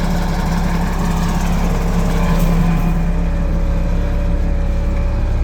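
An old Mitsubishi excavator's diesel engine runs loud and close with a steady chugging drone, and the pitch and intensity rise briefly partway through as the throttle is opened.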